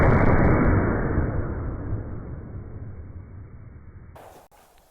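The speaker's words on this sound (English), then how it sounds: "we're going to shoot that with this 1886 Winchester in" A heavy boom from an 1886 Winchester rifle in 50-110 WCF rolls out loud and broad, then fades slowly over several seconds before cutting off.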